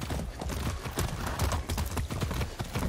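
Horse hooves clip-clop in the video game Far Cry 6, a steady run of close, distinct hoof strikes sounding continuously with no talk.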